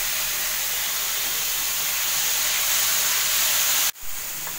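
Chopped vegetables sizzle in a pan over a high flame as they are sautéed for a paneer wrap filling. A loud, steady hiss fills the clip, then stops sharply near the end and returns more quietly, with no speech.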